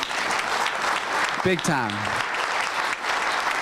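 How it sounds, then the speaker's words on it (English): An audience at a Rotary Club of Louisville meeting breaks into steady, full applause, and a voice speaks briefly over the clapping. "deserves a round of applause because they really helped us out"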